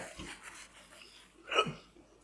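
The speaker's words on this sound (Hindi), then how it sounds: "हिचकी आ रही है." A single sharp hiccup pops out close and clear during a quiet moment on a game show set, with faint background sounds around it.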